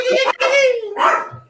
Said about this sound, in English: Yo, that's the Rottweiler, bro.